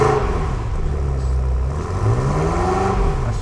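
A BMW F10 M5 Competition V8 engine revs from idle up to around 3000 RPM and back, a steady, loud, close rumbling drone with a rising and falling pitch and no voices over it.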